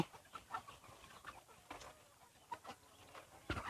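Several egg-laying hens on a farm cluck and chatter in short, irregular bursts, a busy flock close by with a little background rustle.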